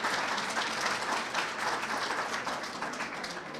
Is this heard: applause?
yes